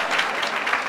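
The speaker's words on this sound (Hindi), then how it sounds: "चलिए एक बार और जोरदार तालियों के साथ हो।" Audience clapping at an exam results ceremony, a short burst of dense, steady applause.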